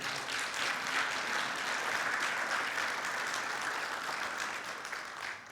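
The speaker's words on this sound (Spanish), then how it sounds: "¿Puedes darle un aplauso a él?" A church congregation breaks into sustained applause, dense and even, holding steady for several seconds before easing slightly at the end.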